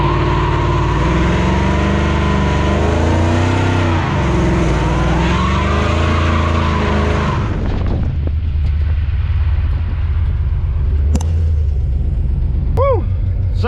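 A 6.0-liter LS-swapped S10 pickup roars through a burnout, its loud engine droning with tire squeal for about eight seconds before the revs drop to a rough, rumbling idle; a few faint whistles and tones follow near the end.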